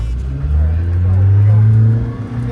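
Fancy sports car accelerating on a race track, a loud close engine drone rising in pitch, with a voice talking over it.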